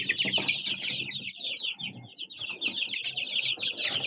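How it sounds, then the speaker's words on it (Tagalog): Chicks being moved: a dense chorus of high, rapid peeping close by, continuous and overlapping, with soft rustling and shuffling underneath. "Malilipat yung ating mga sisiw."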